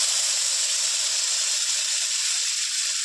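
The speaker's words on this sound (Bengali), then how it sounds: "মাছ ভাজা তেলের মধ্যেই দেবো পেঁয়াজ কুচি" Chopped onion hits hot oil left over from frying fish, giving a loud, steady, even hiss of sizzling that carries on without a break.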